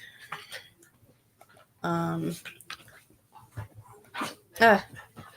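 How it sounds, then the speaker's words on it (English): Several pet dogs bark in short, loud bursts at close range indoors, with gaps between volleys, while a person talks over and between them. "My dogs are going a little crazy."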